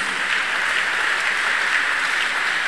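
A church congregation applauds in a clap offering, dense continuous clapping from many hands, loud and even throughout without any speech.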